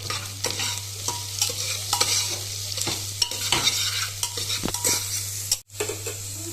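Onion and carrot fry in hot oil for pulao while a utensil stirs and scrapes the pan, a steady sizzle broken by repeated clattering strokes, close and with no talking.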